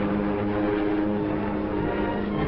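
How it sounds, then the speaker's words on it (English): Flights of World War II propeller planes pass over the shipyards, a steady, loud droning engine hum with layered low tones and no break, as if heard from an old wartime film soundtrack. "Every day, flights of planes passed over the yards on their way to hammer the Atlantic Wall."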